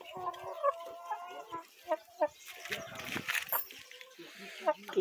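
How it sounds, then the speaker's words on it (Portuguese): Chickens resting on a farm, with soft intermittent clucks close by under someone speaking Portuguese, some scuffling noise in between. "As galinhas fazendo seus descansos aqui."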